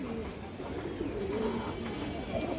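A female Khoragola pigeon with a boot beak and other cheap highflyer and Pakistani pigeons coo softly in low, rolling murmurs, close by and continuous throughout, fairly faint.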